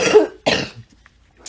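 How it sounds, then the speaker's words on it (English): Two harsh, close coughs in quick succession, then near silence. "Still fighting this cough."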